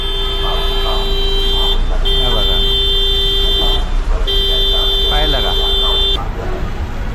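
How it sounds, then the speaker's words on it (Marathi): A pickup truck's horn blares in long sustained blasts with brief gaps, loud and close, at a slow toll booth in rain, while someone talks over it amid diesel engine rumble. "विनाकारण हॉर्न वाजवतोय, विनाकारण."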